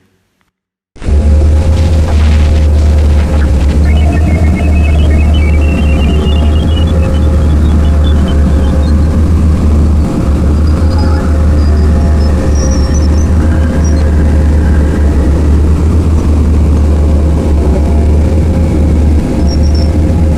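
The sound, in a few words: sonified sound of the solar system's planets and moons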